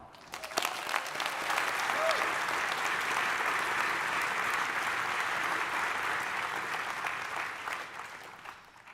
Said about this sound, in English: Let's give a round of applause to the engineers, scientists, and administrators